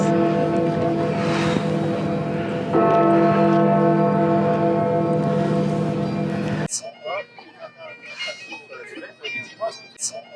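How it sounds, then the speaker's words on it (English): Church bells ring near Westminster Bridge in London, loud sustained tolling tones over busy outdoor ambience, then cutting away to quieter bell chimes with a person talking nearby. "And we got the bells."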